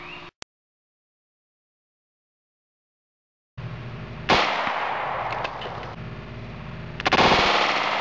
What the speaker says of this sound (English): Test gun for the 45 is the PT-845.